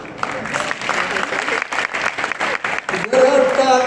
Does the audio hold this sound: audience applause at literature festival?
yes